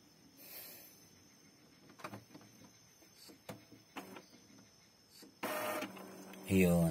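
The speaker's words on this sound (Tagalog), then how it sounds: "Ngayon mga normal na activity ng printer." An Epson L5190 printer running normally after an error 00041 fix gives off faint clicks and mechanical taps, then a loud whirring feed and a rising motor sweep at the end.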